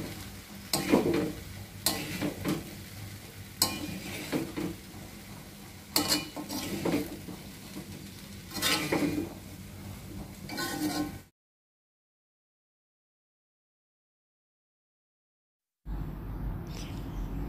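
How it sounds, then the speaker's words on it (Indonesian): Potato slices, added to softened carrots, are stir-fried in a pan with repeated scraping strokes of a spatula over a soft sizzle, then a few seconds of total silence before the frying resumes. "kemudian masukkan irisan kentang, tumis kembali sambil diaduk-aduk supaya tidak hangus."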